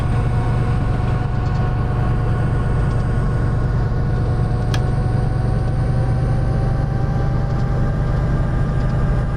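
A freight train rumbling steadily along the Cajon Pass line in Train Simulator 2015, with a continuous low engine drone, wheel-on-rail noise and faint tonal hum throughout, loud and close, with no talking.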